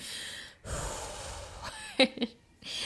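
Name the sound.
imitated deep calming breath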